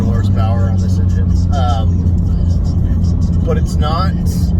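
A twin-scroll-turbo Mitsubishi Evo X drives at speed, its steady engine drone and road rumble continuous and loud from inside the cabin, with someone talking over it throughout.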